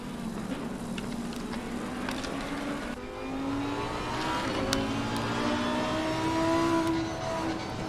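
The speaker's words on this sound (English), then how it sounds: "Hearing that nice crackling sound out of the engine of that Lamborghini." A Lamborghini GT race car engine in the racing game Assetto Corsa Competizione at Bathurst drones at moderate distance, its pitch climbing steadily through the gears with faint crackles, heard alone.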